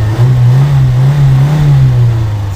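Renault 4 engine idling and revving in the snow after sitting unused for months, a steady loud mid-pitched drone with slight rises and falls in pitch, continuous and close, with no voices.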